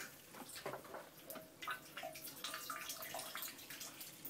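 Water trickles and drips from a wrung-out cloth into a bucket aboard a cruising yacht, with faint splashes and patters, quiet and close.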